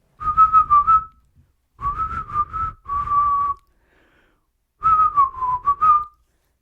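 A person whistles a bright melodic tune in three phrases separated by short pauses, close and clear with no talking.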